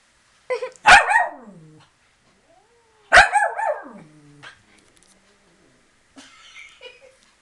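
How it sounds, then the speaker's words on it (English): A dog lets out two loud, close barks that trail into snarling growls, followed by a quieter growl after a pause. "Crazy dog."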